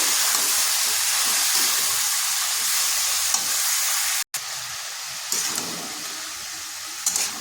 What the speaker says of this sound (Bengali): লাউগুলো লাউটা মশলার সাথে খুব ভালোভাবে মিশিয়ে নিচ্ছি